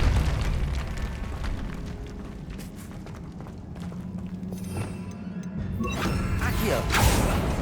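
A Repulsor spell in Hogwarts Legacy bursts with booming, crackling blasts and debris-like clatter, loud and close, swelling again toward the end, with game voices mixed into the noise.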